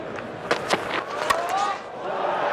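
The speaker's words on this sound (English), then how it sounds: "now Lord's crowd greet Steve Smith, who will resume his innings to a great ovation" Applause and cheering from a large cricket crowd at Lord's greeting Australian batsman Steve Smith as he returns to resume his innings in the 2019 Ashes Test, a steady roar with sharp claps and whistles rising over a commentator's voice.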